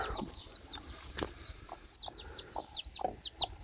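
Chickens clucking in short, scattered bursts, with small birds chirping faintly in the background.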